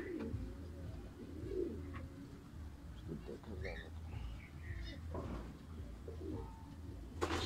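Silver Jacobin pigeons cooing on a rooftop garden, soft low coos under steady background noise and nearby talk.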